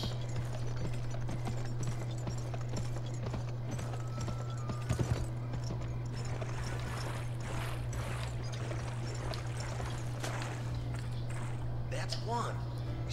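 Horse hooves clip-clop at a gallop in the Western video game Gun, a steady rhythmic patter beneath a constant low hum, with someone talking over it at times.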